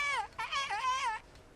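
A character's voice imitates a nightingale's song in the game Kingdom Come: Deliverance, giving three warbling, wavering phrases of whimper-like vocal trills in close succession.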